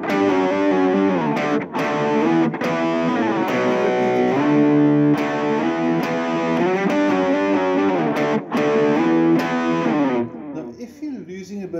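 Distorted electric guitar plays a power chord riff, loud sustained chords with slides and short breaks, ending in a brief quieter tail.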